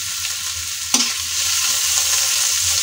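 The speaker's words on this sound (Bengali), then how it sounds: "এটাকে আমি চিকন চিকন করে কেটে নিয়ে ভাজি করলাম" Thinly sliced snake gourd sizzles steadily in hot oil in a pan, with a single clatter of stirring near the start and then a constant frying hiss close by.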